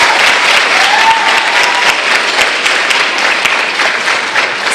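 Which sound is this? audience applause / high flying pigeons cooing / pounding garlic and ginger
audience applause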